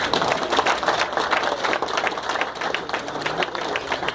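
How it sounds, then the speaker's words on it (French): An audience at a community president's speech breaks into applause, a busy, steady patter of many hands clapping with distinct individual claps standing out. "Si vous pouvez les applaudir."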